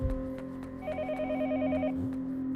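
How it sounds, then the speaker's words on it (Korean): A telephone in the video game Yomawari rings with a rapid warbling trill over a steady electronic hum and soft background noise, one short ring burst heard clearly. "전화 소리 커졌는데 지금?"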